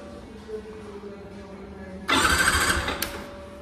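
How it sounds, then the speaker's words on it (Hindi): A 2024 Yamaha R15 V4 motorcycle with no fuel has its starter cranking for about a second without the engine catching. The cranking comes suddenly after a quiet stretch and is heard alone. "आई डोंट थिंक सो ये स्टार्ट होगा क्योंकि इसमें फ्यूल नहीं है।"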